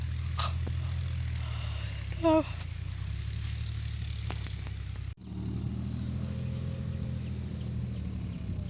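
A tractor runs in a farm field being prepared for harrowing after crop debris was burned, giving a steady, fairly near low engine drone with a brief dip partway through.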